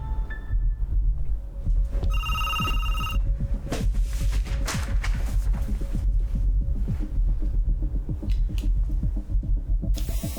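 A telephone rings for a scheduled phone call, a short electronic ring burst heard clearly against a steady low throbbing background, followed later by brief tonal blips.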